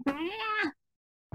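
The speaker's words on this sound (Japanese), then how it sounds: "猫" A single Minecraft cat meow, close and clear, lasting under a second, followed by silence and the start of another sound at the very end.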